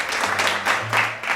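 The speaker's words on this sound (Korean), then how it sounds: "박수 부탁드립니다." An indoor audience at a book talk applauds, a dense, steady wash of many hands clapping, loud and close, with no talking over it.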